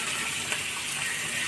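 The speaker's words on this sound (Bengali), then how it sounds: "মিক্সি বাটিটা ধুয়ে জলটা একটু দিয়ে দিলাম" Rinse water from a mixer-grinder jar poured into a pan of spinach and potato curry, a steady broadband gushing splash that runs evenly throughout at moderate loudness, with no talking.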